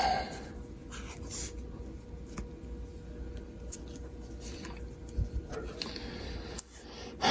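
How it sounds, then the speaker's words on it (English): Electrical tape is pulled tight and wrapped around a crimped wire joint while a battery bank is wired in a bus RV conversion, making faint, close, scratchy rasps and short crackles in a quiet room. "And then I will further insulate it with some electrical tape. Just like to pull it a little bit tight."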